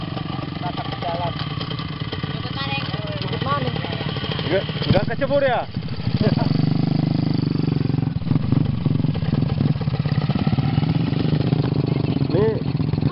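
A motorcycle engine idles and runs steadily at close range on a road toward the sea coast, a continuous mid-pitched drone with a brief revving dip, while people talk over it.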